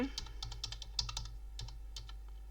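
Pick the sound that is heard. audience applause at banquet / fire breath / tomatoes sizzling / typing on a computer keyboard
typing on a computer keyboard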